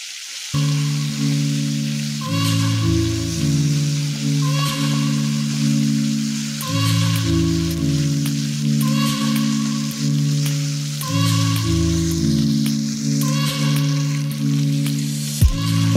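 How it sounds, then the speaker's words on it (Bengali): Bansh pata fish fry in hot oil with a loud, steady close-up sizzle that carries on throughout, while a melodic music track plays underneath. "এবার এইভাবে ভালো করে ভেজে নিচ্ছি।"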